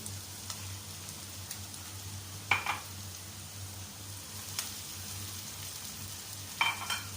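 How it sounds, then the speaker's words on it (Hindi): Carrot and capsicum stir-frying in a pan for Singaporean rice, a faint continuous sizzle with a low hum underneath and occasional sharp utensil clinks against the pan, no talking. "अब हम इस स्टेज पे इसमें गाजर और शिमला मिर्च शामिल कर देंगे।"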